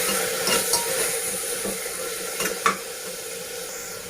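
Spinach sautéing with browned onion in a pan for Sindhi palak chawal, a steady soft sizzle with a few scraping stirs and small clinks, close and continuous with no talking.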